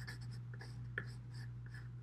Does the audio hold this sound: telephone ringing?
no